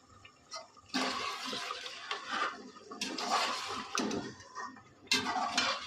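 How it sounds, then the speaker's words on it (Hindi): Water splashes and pours into a cooking pot in a home kitchen, a steady close rushing sound in several bursts with faint clinks of metal, and no speech. "मैं इसके अंदर पानी डालूँगी देखूँगी कि कम चाहिए होगी।"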